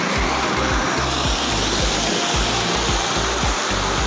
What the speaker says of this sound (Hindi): आओ आओ ये ऊपरी पार्ट वाटरफॉल का